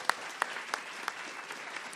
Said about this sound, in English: Round of applause for all the panel.